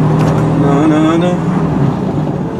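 Truck (LKW) engine rumbling while driving up to a shop, a loud continuous low drone with steady road noise throughout.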